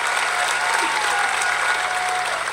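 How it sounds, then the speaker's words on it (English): Steady, dense applause from a crowd at a New Hampshire Democratic political rally, a sustained, even wash of many hands clapping at once with faint voices mixed in. "Give her a big round of applause."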